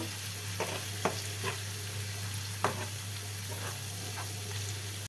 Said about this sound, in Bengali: যে মশলাগুলো আছে মশলাগুলোকে আমি আর একটু ভালো করে কষিয়ে নেব